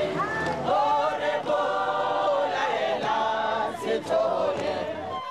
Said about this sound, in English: Outside the courtroom, women banded together and voiced their anger in song